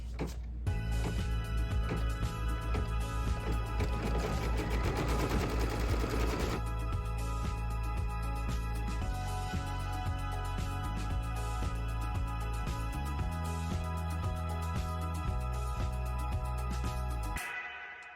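An embroidery machine stitches quilting into a pineapple crossbody bag, running loud and continuous with a rapid mechanical rattle and pitch shifts as the stitching changes, then stopping at the end.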